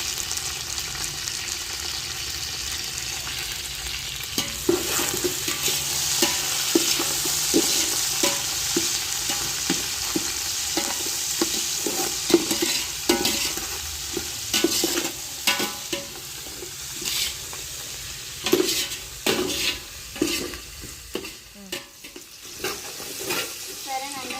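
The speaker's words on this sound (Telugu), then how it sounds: "ఈ విధంగా పులావ్ దినుసులు మొత్తం వేసేసుకొని ఫ్రై చేసిన తర్వాత టమాటా కూడా, కొత్తిమీర, పుదీనా, కరివేపాకు కూడా వేసేసుకున్నాం" Pulao spices sizzle and fry in a pan with tomato, coriander, mint and curry leaves while a spoon stirs them, giving steady close frying hiss with irregular scraping and clattering stirs throughout.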